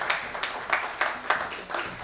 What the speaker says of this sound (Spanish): Lo vamos a recibir con un fuerte aplauso y le agradecemos su presencia.